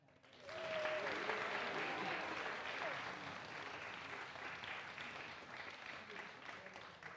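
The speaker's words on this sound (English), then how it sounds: "let's give a big round of applause for Rio Posable" Audience applause at a high school spring band concert in 2021 swells quickly into steady clapping from a full crowd and holds at an even level, heard at a moderate distance.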